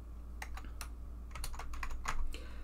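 Typing on a computer keyboard, irregular bursts of clicking keystrokes close to the mic over a low steady hum, with no speech.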